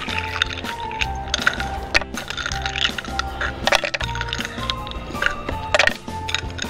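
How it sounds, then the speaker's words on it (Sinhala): Six or seven ice cubes dropped into yogurt and fruit, giving a dense run of cracks, clinks and squishy knocks over a continuous background hum, close and fairly loud. "හල අයිස් කැට 6-7ක් දාගන්න."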